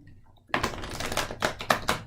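A deck of tarot cards being shuffled by hand, with a steady run of papery riffling and flicking bursts after a brief quiet start, fairly close and without talk.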